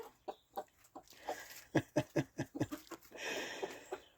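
Repeated clucking and crowing-like calls from nearby fowl, a series of sharp bursts with a busy, hissy outdoor background.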